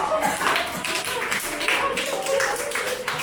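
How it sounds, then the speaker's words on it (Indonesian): Students in a classroom clap their hands during a lesson, a fairly light, uneven patter of claps with some faint voices mixed in. "Tepuk tangan lagi dong."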